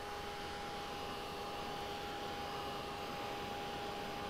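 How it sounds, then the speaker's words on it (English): A hair dryer blows steadily on acrylic paint drying on a painting, giving an even, continuous whooshing hum with a faint whine throughout, with no break. "I'm going to dry this real quick."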